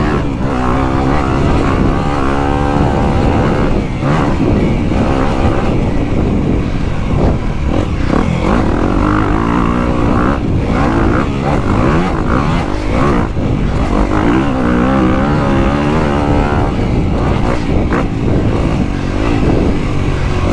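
A 2025 Honda CRF250R dirt bike engine under riding, loud and close, revving up and down in repeated surges with shifting pitch as the rider works the throttle over rough terrain.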